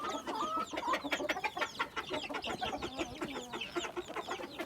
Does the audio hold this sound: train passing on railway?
no